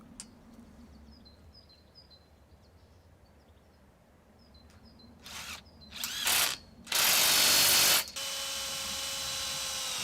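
A nut and bolt are tightened on a P-clip around a storm-kit hoop: quiet ticking first, then a few bursts of ratcheting, ending in a long, loud stretch of fast ratchet clicks, with faint birds chirping in the background.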